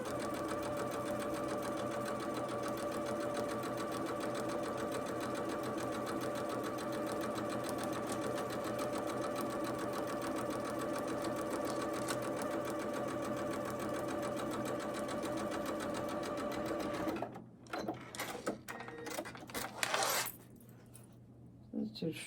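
A sewing machine stitches quilt strips together with a steady, continuous whir for about seventeen seconds, then stops, followed by a few small clicks and handling noises of the fabric.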